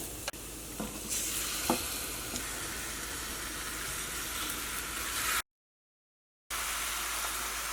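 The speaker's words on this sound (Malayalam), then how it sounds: "അപ്പോൾ നമ്മുടെ മസാലപ്പൊടികളെല്ലാം നന്നായിട്ട് മൊരിഞ്ഞിട്ടുണ്ട്." Spice powder sizzles and fries steadily in a hot pan, a constant close hiss with a few light scraping clicks, cut by a brief gap of silence.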